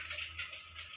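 Cut cauliflower being washed under running water in a kitchen, a soft steady hiss and splash of flowing water, faint and continuous for the whole second with no voices.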